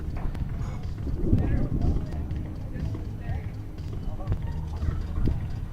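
Hoofbeats of the 12-year-old show-jumping mare Carmela Z on course in an FEI 5* 1.50m qualifier, a soft rhythmic clip-clop under continuous commentary by a speaker.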